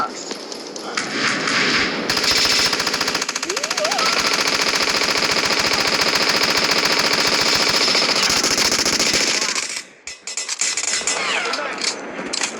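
Long, rapid bursts of automatic M249 machine-gun fire in a video game rattle loudly and continuously, with voices talking underneath.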